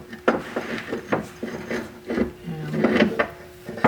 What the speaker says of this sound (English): And I'll use a wrench. Take the wrench from over here.